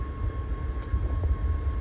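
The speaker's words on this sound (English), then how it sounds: "there's a train right now and he is gonna be sitting there for a while" A CSX freight train with container cars sits idling on a new siding in Holland, Michigan, giving off a steady low rumble with a faint constant tone and no distinct clanks.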